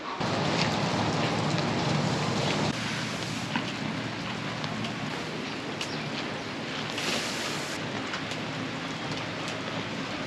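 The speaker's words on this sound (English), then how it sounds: "I'm hoping that this rain will let up here in a little bit" Steady rain from a heavy storm at harvest time patters and hisses continuously, a dense wash of drops with a heavier burst at the start and no talking.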